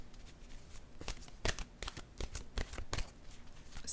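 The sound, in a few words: oracle cards being shuffled and drawn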